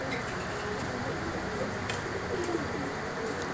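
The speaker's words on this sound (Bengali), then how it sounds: "আমি একে একে পায়রাগুলো আপনাদের দেখাচ্ছি" Madrasi highflyer (giribaj) pigeons coo in low, soft, rolling tones against a steady background hum, with a few faint chirps scattered through the short stretch.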